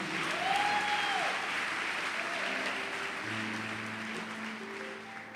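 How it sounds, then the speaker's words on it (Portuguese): Church congregation applauding in a large room, a sustained wash of many hands clapping at a steady level with faint musical tones underneath and no clear speech. "Então aplauda o nome do Senhor para eu beber água"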